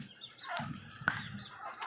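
Chickens and chicks on a rooftop farm cluck and peep in a few short, faint calls close by, with one sharp chirp standing out.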